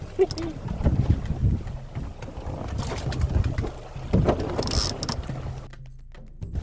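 Gusty wind buffets a sailboat on Lake Waitaki near a dam, a steady low roar of wind noise with rushing surges and water wash throughout, briefly easing toward the end.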